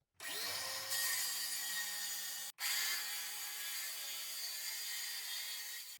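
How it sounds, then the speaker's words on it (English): A saw cuts plywood along an offset guide board in two continuous strokes split by a brief pause, a loud, close, rasping whine with a rising tonal edge, no voices. "I offset the board that I used to make the line so I could use it as a guide to make a nice straight cut with my saw"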